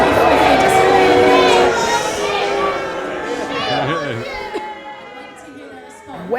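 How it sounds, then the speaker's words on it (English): A crowd at a Conservative Party political conference yells and boos in a dense, loud wall of overlapping voices that gradually thins and quiets. "he language Boris Johnson used about Jo Cox, we heard yells of shame on you, booing, humbug"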